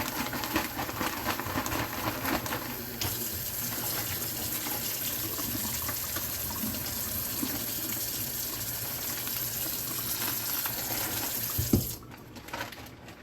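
Tap water runs steadily over fish and a bag being rinsed at an outdoor cleaning station for redfish and speckled trout, a continuous close gushing with small splashes, cut off near the end.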